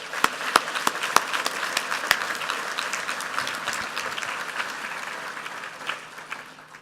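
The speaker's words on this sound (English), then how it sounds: "Please now, a round of applause." Applause at a university engineering commencement ceremony, a moderate crowd clapping steadily for several seconds with sharp individual claps standing out, slowly tapering off at the end.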